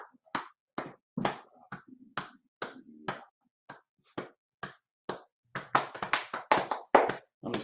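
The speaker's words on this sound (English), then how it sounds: "I'm just clapping until he turns it off." Hand clapping at a Sabbath church service, sharp individual claps close by in an uneven rhythm, sparse at first and then quicker and denser toward the end, with near silence between the claps.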